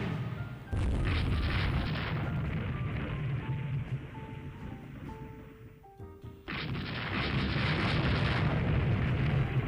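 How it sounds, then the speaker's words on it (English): Torpedo hits explode in the naval strategy game Rule The Waves 3, a loud sustained boom at the start, a quieter rumbling stretch with small tonal blips, then a second heavy blast that rolls on to the end. "Oh, one of our destroyers has been hit by a torpedo."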